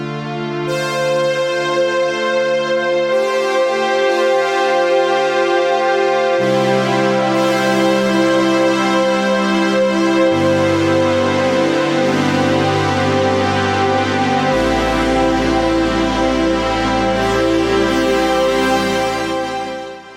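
A synth pad played through a Strymon Cloud ambient reverb impulse response loaded on a Big Sky pedal, with sustained, washy chords that shift every few seconds and a deep bass note entering late, loud and continuous.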